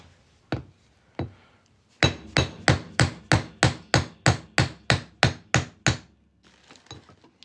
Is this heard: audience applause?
no